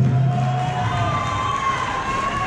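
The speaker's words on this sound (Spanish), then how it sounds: "Así que el aplauso, que se escuche." Party guests at a quinceañera applauding and cheering, a dense continuous wash of clapping and crowd noise indoors, fairly loud and steady throughout.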